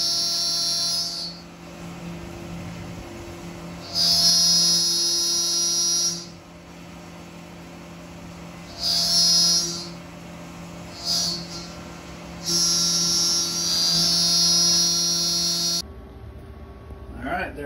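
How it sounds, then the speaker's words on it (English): A Tormach 1100MX CNC mill cuts notches and drills a hole in a part, high whining spindle bursts starting and stopping in several passes over a steady motor hum, then the machine stops. "A little bit thicker, just cutting some more notches and drilling one hole in there."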